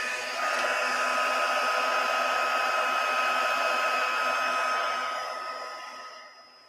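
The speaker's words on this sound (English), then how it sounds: "And then we will heat it with our heat tool and see what happens." A craft heat tool melts white embossing powder on a card, blowing a steady loud hairdryer-like whoosh with a faint whine that runs continuously, then fades out at the end.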